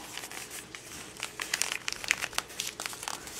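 Paper being folded in on itself and crumpled with scotch tape to form a seed starting pot, a steady close crinkling with sharper crackles midway.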